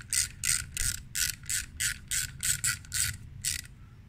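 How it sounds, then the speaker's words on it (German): A small hand ratchet tightens a brake bolt on a Honda Transalp XL600V motorcycle, giving about a dozen quick, evenly spaced clicking bursts, close and clear, with no talking. "jetzt brauche ich meine kleine Ratsche wieder. Schrauben wir das Ganze fest."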